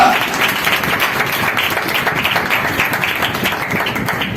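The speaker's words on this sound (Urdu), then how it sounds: "تالیاں بجائیے" A church congregation claps together in a dense, steady patter of hands that fills the few seconds at a fairly even level, with a faint voice underneath.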